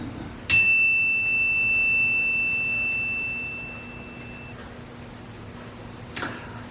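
A metal chime struck once, giving a bright, clear ring that sustains and slowly fades over several seconds in a quiet room, followed by a softer second touch near the end.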